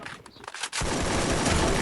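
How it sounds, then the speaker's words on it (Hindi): Gunfire in the Free Fire battle royale game, with a few sharp shots early on followed by dense, continuous rapid firing that stays loud to the end. "एक बंदा मेरे पीछे से गोली चला रहा है"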